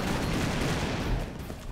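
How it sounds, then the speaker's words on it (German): Dense, continuous gunfire rattles nonstop from the retro run-and-gun game Broforce, a loud steady barrage of shooting and booms with no pauses. "Warte, ich schieße uns mal hier den Weg frei"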